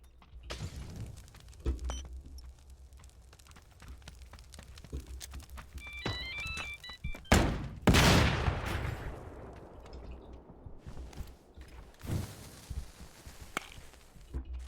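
Gunfire in the battle royale game PUBG: scattered shots crack out over several seconds, with a loud close burst and a heavy blast near the middle and a few fainter distant reports later, with no talking.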